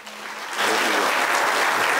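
Audience applause at a university master class, starting moderately and swelling at about half a second into steady, full clapping from a sizeable crowd, with no voices over it.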